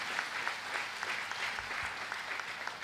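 Steady applause from a church congregation at a Sunday service in Kahawa West, sustained clapping filling the room for about three seconds with no talk over it.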